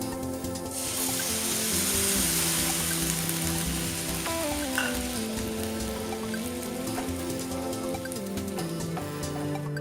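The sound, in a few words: pumpkin simmering and sizzling in tamarind water in a pan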